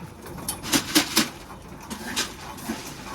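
Several short bird calls, coo-like and moderately close, spaced irregularly over a quiet outdoor background.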